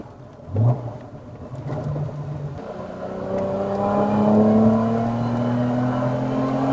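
A BMW 323i Baur E30 engine idles low, then climbs in a rising rev that sweeps up steadily, nearby and fairly loud, and holds high near the cutoff.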